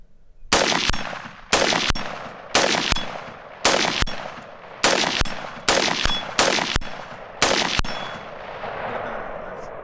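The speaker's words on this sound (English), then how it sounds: "Let me unload on that 12-inch target" A rifle with a 4x20 carry handle scope fires about nine loud, evenly spaced shots at a 12-inch steel target, each sharp crack followed by a ringing metallic clang and a short decaying echo.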